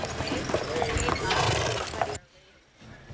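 Two horses brought out for an elderly woman's birthday ride clop steadily on hard ground, their hooves close and rhythmic under a reporter's voice before the sound drops away.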